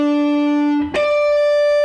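Electric guitar picks out sustained single notes of an intro riff, one clean tone held, a brief pick attack, then a higher note ringing on, close and steady with no talk.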